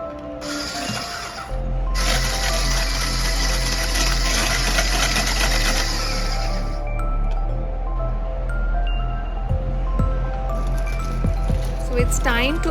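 About 100 grams of whipping cream is beaten to stiff peaks with a motorised beater, giving a steady, loud whirring hum throughout, with a brighter rattle during the first few seconds.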